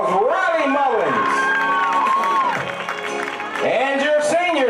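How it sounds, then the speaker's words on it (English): Crowd at a high school football game cheering and applauding, with an announcer's amplified voice talking loudly over the noise. "Great big round of applause, Riley Mullins."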